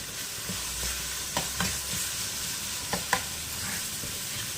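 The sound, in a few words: onions sautéing in pan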